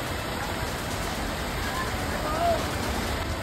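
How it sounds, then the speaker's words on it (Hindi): Rain getting heavier over roads in Sanchore district after voting day, with hail falling: a steady, dense broadband hiss of rainfall and running water, close and continuous throughout, with faint talk beneath it. "अब धीरे धीरे बारिश है वो तेज हो रही है और रोडों पे है वो पानी इसका होना शुरू हो गया है।"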